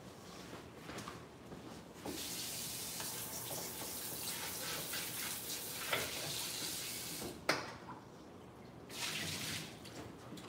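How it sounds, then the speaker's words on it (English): Running tap water splashes steadily over raw pork chops being rinsed at a sink, a continuous hiss with brief dips and a couple of sharp knocks, close and fairly loud. "hold the line while I rinse these off"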